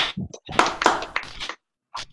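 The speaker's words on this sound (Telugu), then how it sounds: "ఆ క్లాప్స్ గట్టిగా కొట్టండి" Hands clap in a few quick, sharp, close bursts at a Christian music college gathering, followed by a short pause and one more clap.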